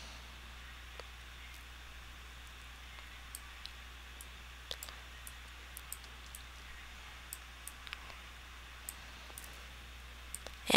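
Faint, sparse computer mouse clicks sound as isolated sharp ticks over a low steady hum, spaced irregularly across a quiet room with no speech.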